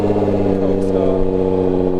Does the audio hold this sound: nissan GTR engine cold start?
yes